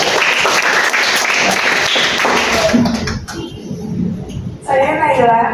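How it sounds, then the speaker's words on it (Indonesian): A classroom of students breaks into loud, dense applause for about three seconds, then the clapping fades as a voice begins speaking. "Kita berikan aplaus dulu nih buat"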